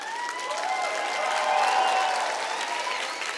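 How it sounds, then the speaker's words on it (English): Graduation ceremony audience at Victoria University applauding graduates' families and supporters, a steady wash of many hands clapping that swells slightly midway, with faint tonal music or ambience underneath. "give your friends, your family, your supporters a round of applause to say thank you"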